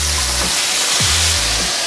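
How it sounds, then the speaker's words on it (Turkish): Smash burger patties searing in a hot cast iron pan, a loud, dense sizzle close by that holds steady, with the occasional low thump of the pan being moved and no talk. "Köfteler nar gibi kızarıyor."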